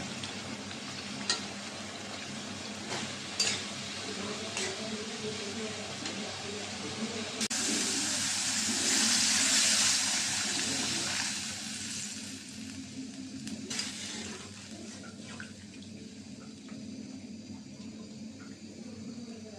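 Spices frying in a pan with tomato and green chillies for a hilsa curry give a steady, close sizzle and hiss that swells to a louder burst midway, with occasional stirring scrapes.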